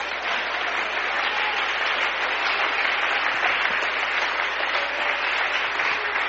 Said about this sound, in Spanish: Aplauso al Señor Jesús.